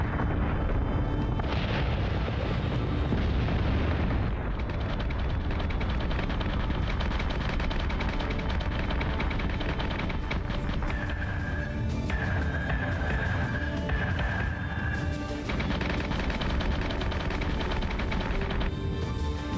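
Battlestar Galactica Deadlock ship guns fire continuously amid thundering explosions, making a dense, loud barrage of booms and rapid flak with a rumbling low end that never lets up.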